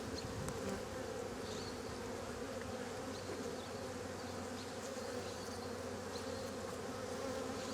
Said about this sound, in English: So I want to check what's going on with the bees in here